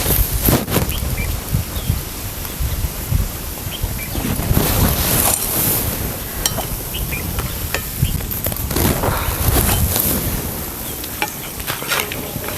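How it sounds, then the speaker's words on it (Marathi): Onion bhaji, Sangli-style kanda bhaji, deep-frying in hot oil: a loud, dense, continuous sizzle and bubbling with occasional sharper crackles and stirring sounds throughout. "आता सगळं असंच तळून घ्यायचं"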